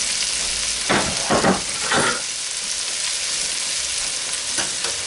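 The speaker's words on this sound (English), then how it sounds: "So let me give that a quick little stir." Vegetables including celery, jalapenos and garlic are stirred in a pot over steady frying sizzle, with a few distinct scraping strokes near the start and a couple more at the end.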